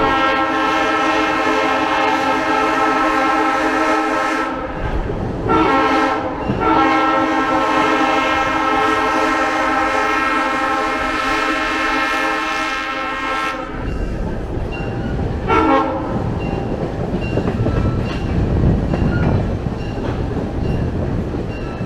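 An excursion passenger train runs along a river, its horn sounding in long sustained blasts close by, then giving way to the steady rumble and rattle of the cars rolling past.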